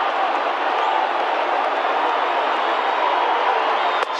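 A baseball stadium crowd of 36,000 in a Cubs versus Reds game roars steadily as fans rise to their feet, a dense, loud wash of cheering that holds level throughout with no distinct voices.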